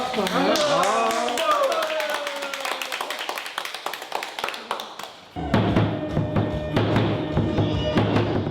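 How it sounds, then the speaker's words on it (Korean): A crowd breaks into applause at a Korean pumba performers' training gathering, many hands clapping together at close range, with voices and chatter mixed in. "오늘 이렇게 준비했으면 박수 한번 쳐줍시다"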